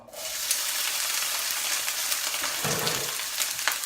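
Loud, steady sizzling of wet celery and other vegetables frying in hot oil for fried rice, a dense crackling hiss that continues throughout with occasional sharper pops.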